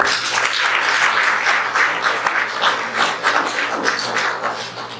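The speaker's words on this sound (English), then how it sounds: "A round of applause for that response." Audience applause at an anti-racism community forum in Saint John, New Brunswick: a steady, dense wash of many hands clapping for about five seconds, fairly loud and even, with no talk over it.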